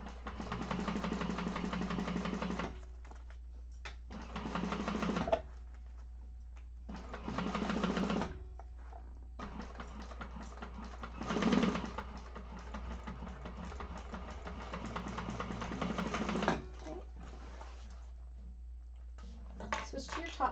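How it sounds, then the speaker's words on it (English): Sewing machine stitching through the top panel of a bag case, running in several bursts of a few seconds each with pauses between, close and moderately loud, with occasional talk in the gaps. "you're just sewing through that top panel and the top of this case"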